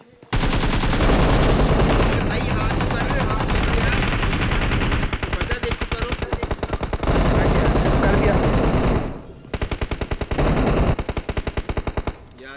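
Loud, sustained rapid machine-gun fire in a battle royale video game blazes for several seconds, breaks briefly, then resumes, with a voice talking faintly underneath.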